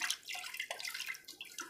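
Thick liquid pours from a glass in short, close splashing gushes, quiet and wet-sounding, with no voices over it.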